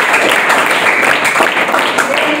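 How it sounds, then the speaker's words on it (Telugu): A classroom audience breaks into dense, loud applause, many hands clapping together in a sustained burst close by, with some voices mixed in. "క్లాప్స్."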